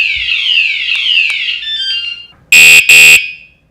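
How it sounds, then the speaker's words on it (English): A 113 dB alarm fitted to a BMW motorcycle shrieks with loud descending electronic sweeps, then blasts two harsh buzzing tones that cut off and fade. "a bike alarm that's loud enough to protect your BMW"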